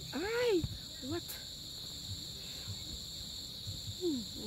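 A steady high cricket trill runs throughout, with a few sweeping tonal calls and faint murmuring beneath.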